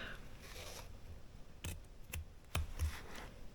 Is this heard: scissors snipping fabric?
yes